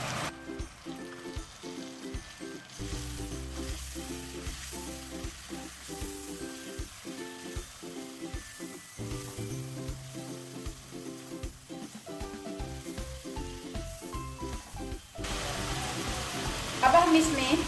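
Finely grated medium-sized tomato sizzles and is stirred in a pan for Chicken Kachnar gosht, a steady soft frying hiss broken by rhythmic scraping strokes, with a voice talking quietly over parts of it.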